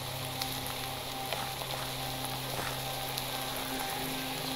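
Rain falls in the Minecraft video game as a steady, even hiss that goes on throughout, with faint music and a low hum underneath.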